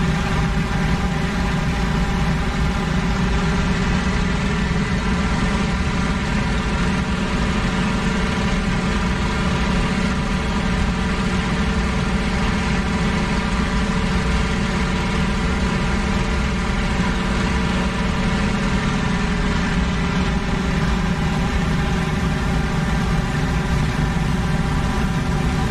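An aircraft engine drones in a WWII dogfight video game, a loud, steady, unbroken hum running the whole time with no voices.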